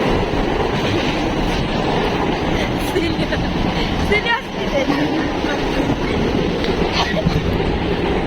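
Steady, loud rumble of a moving passenger train heard from inside the carriage, continuous throughout with faint rattling, with voices chatting over it.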